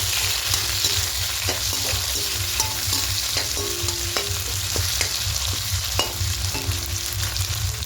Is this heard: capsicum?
yes